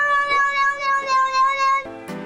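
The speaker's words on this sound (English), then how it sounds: "It could even be watching cat videos on YouTube." A cat meows in a long, wavering, drawn-out cry played back from an online cat video, followed by a short, sharper sound at the end.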